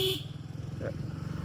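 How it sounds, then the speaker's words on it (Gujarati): A vehicle horn gives one short honk at the start, then a motor vehicle engine hums steadily at low volume with no talking. "આનો હોર્ન નો સુર તો તમે સાંભળ્યો હશે, તમને સંભળાવું"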